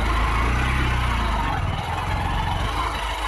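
A motorcycle rides along a forest road in Gorumara National Park, its engine a steady low rumble with wind noise, close and continuous throughout.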